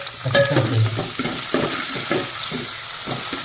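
Tomatoes stirred into onions frying in a pan for vegetable biryani, with a steady sizzle and repeated scraping strokes of the spoon close by, no talking.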